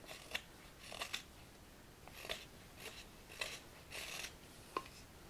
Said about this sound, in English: I'm kind of have to really stretch there to hang on to this ladle while I'm cutting on it